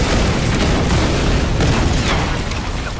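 A loud, continuous barrage of explosions erupts in the Tomb Raider video game, a dense rumbling roar sustained for several seconds with no talking.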